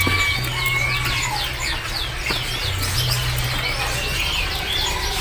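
Bondol birds chirp in a busy bird kiosk at a market, many quick overlapping high tweets and calls over a low hum, with some clucking and wing flutters mixed in.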